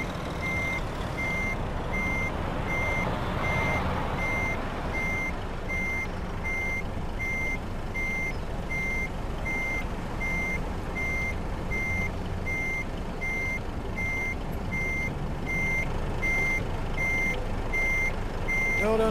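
A heavy truck in Euro Truck Simulator 2 reverses with a trailer, its evenly spaced high backup beeps repeating steadily over a continuous low engine rumble, loud and close, with no talk.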